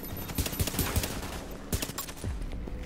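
Rapid gunfire from The Division while using the Colonel Bliss holster: a dense string of sharp, loud shots in irregular bursts, with a few heavier cracks standing out near the middle and toward the end.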